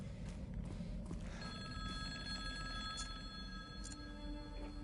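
A payphone rings in the Silent Hill 2 Remake, a repeated electronic bell tone over a low, dense rumbling game ambience, with no voices.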